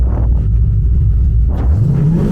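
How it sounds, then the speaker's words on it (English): A Mustang drift race car engine rumbles loud and close, a deep steady drone that swells into a rising rev near the end. "Taking the race car around the block."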